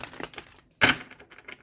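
Tarot cards being shuffled by hand, a quick run of papery riffling flicks with one louder burst of crisp card snaps, close and without talk.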